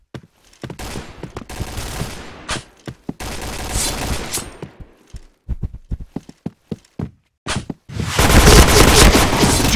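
Rapid gunfire from a shooter video game, with dense bursts of automatic fire broken by short gaps and single sharp shots, ending in a loud sustained barrage.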